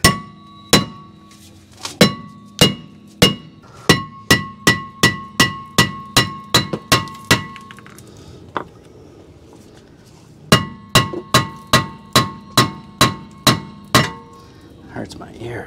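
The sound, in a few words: hammer whacking Toyota RAV4 rear brake rotor to remove it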